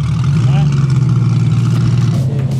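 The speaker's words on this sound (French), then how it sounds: "T'entends les bruits du turbo?" A turbocharged car driving the Nürburgring, heard from inside the cabin: a loud, steady low engine drone with faint rising turbo whine sweeps over it, while people talk.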